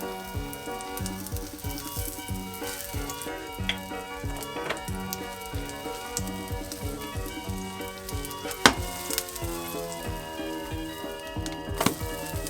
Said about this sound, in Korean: 이제 이거를 바로 구워보도록 하겠습니다. 식용유를 조금 넉넉히 두르고